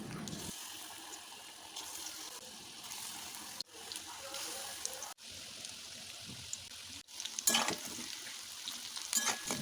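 Jackfruit pieces fry in hot oil in a kadai, giving a steady close sizzle and crackle with a few brief gaps and some louder spatter near the end, with no talking over it.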